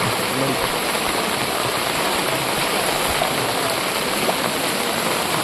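Floodwater after heavy rain in the Tirunelveli district rushes through a village street as a loud, continuous, close torrent with an even churning roar throughout.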